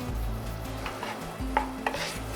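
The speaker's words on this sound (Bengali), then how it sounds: "এরপর একটু নাড়াচাড়া করে নিলাম" Vegetables and pasta being stirred in a pan, with soft scraping and a few light clinks of the utensil against the pan, close and quiet with no talk.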